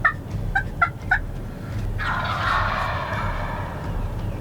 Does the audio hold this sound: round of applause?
no